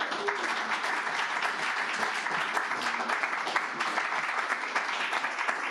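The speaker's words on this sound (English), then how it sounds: "Another round of applause for Jenna, please, for all the work they do" An indoor audience at a book and community celebration claps steadily, a dense, even round of applause with no pauses.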